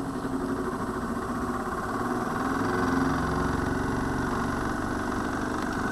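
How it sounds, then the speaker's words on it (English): An induction motor under test spins up as its supply voltage rises, giving a steady, close electrical hum and whir that swells slightly midway with no talking. "you can see that the motor has started to move"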